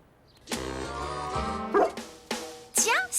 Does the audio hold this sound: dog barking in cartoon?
yes